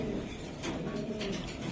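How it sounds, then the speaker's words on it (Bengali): A female racing pigeon, hatched in 2025, cooing in low soft throaty pulses over a steady background hum, close and quiet. "এটা মাদি 2025-এর কবুতর ভাই"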